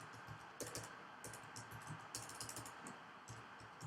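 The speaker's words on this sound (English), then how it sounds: "I can just press enter on my keyboard" Keys tapped on a computer keyboard, ending on the enter key: a run of close, light plastic clicks and clacks in irregular bursts over a steady background hum, with no talking.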